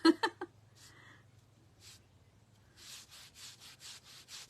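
A finish being scrubbed onto wood for a DIY primitive church, heard as a steady back-and-forth rubbing in quiet rhythmic strokes. A few brief knocks come first, followed by soft, even scrubbing.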